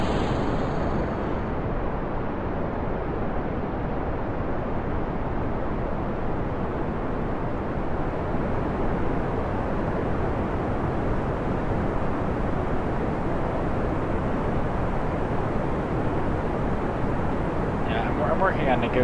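A rocket engine in the video game Kerbal Space Program fires at full throttle, a steady low roaring rumble that stays constant and loud for the whole stretch.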